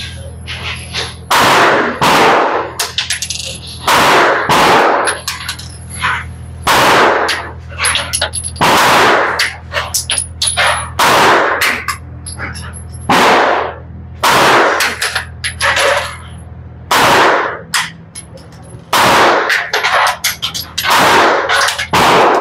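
A CC P10S pistol fires in a series of loud, sharp shots spaced irregularly a second or two apart, with a steady hum underneath.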